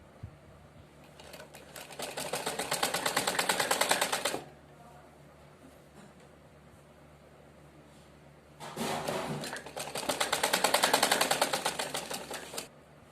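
Sewing machine stitching a half-inch seam on a suit, in two bursts of rapid mechanical whirring of about two and four seconds, separated by a quiet pause.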